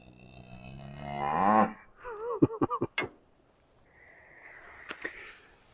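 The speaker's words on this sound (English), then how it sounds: "that's a cow. It's not a bull." A cow lows loudly and close by in one long rising moo, then gives a string of short choppy grunting calls, followed by a quieter drawn-out call after a pause.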